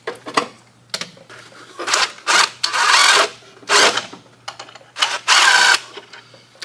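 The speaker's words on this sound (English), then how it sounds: "I can use the same tool I had earlier, 13 on extension, and we're just going to loosen the belt at this moment" Socket wrench with a 13 mm socket on an extension loosening the belt tensioner of a Jeep during a power steering pump change: about eight loud, close bursts of rapid ratchet clicking separated by brief pauses.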